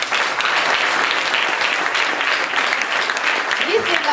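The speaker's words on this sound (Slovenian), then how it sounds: "res je, en aplavz, hvala lepa." An audience at a Russian-themed evening quiz applauds a correct answer, with loud, dense clapping from a close room crowd sustained throughout and a voice faintly mixed in beneath.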